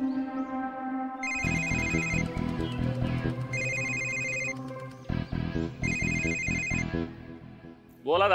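A telephone ringtone plays three repeated bursts of bright electronic ringing with short gaps between, loud and close, over a faint background tone.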